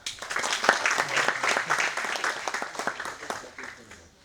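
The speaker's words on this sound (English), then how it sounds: "Yes, clapping for her." An audience claps for an award recipient at an academic faculty development program, a moderately loud round of applause that swells and then gradually fades, with a voice faintly underneath.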